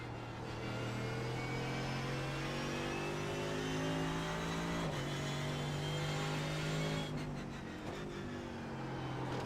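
Porsche race car passing on a road racing track, its engine note rising and then dropping in pitch as it goes by over the steady drone of another car's engine, with no talk.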